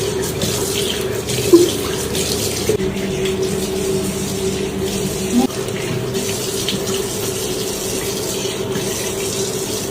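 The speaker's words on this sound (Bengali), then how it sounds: "মুখটা ধুয়ে নিচ্ছি ভালো করে" A bathroom tap runs steadily into a sink as a face is washed, a close, continuous gush of water with a faint hum, holding level for the whole stretch with a couple of small splashes and no talking.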